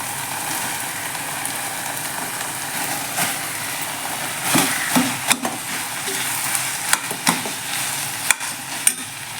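Mint rice masala is stirred and sautéed in a pan, giving a soft continuous sizzle with sharper scraping strokes and spoon knocks that grow more frequent in the second half.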